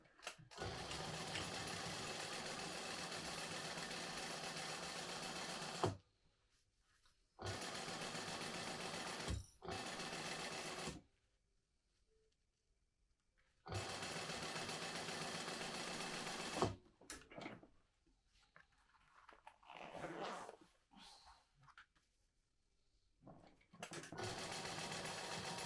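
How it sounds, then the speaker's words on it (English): Home sewing machine stitching two lining pieces right sides together with a quarter-inch seam, a steady loud whir in several bursts separated by short silent pauses. "And then I'm going to sew this on at 1/4 of an inch."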